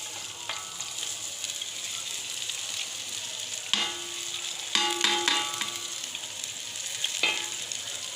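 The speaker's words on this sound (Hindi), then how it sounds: "प्याज डाल रही हूँ मैं इसमें" Onions frying in oil in a pot for haleem make a steady, close sizzle, broken by a few sharp metallic clinks and scrapes from a utensil against the pan.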